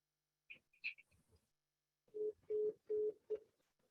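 Telephone dial tones as an IT tech places a call during a school board meeting: a few faint high beeps early, then four louder, evenly spaced mid-pitched tones in quick succession, with no talk.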